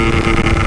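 A Yamaha RX King motorcycle engine with a weak spark plug, left unused for over a week, strains and sputters as it fails to rev, a loud, rough, continuous engine drone heard briefly and close.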